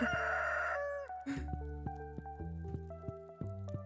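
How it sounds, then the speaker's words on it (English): A rooster crows in the Stardew Valley farming game, a loud drawn-out call at the start that gives way to plucked, melodic game music notes continuing throughout. "I like that in a way the rooster screamed with us."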